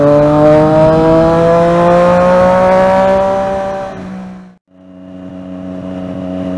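Loud exhaust of a Triumph Daytona 675 motorcycle ridden through city traffic: a close, rising high-pitched engine whine, then a brief drop in revs and a return to steady howling exhaust.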